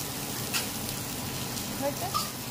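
Flour-coated eggplant slices fry in oil with a soft, continuous crackling sizzle, fairly quiet and steady, while faint voices murmur in the background.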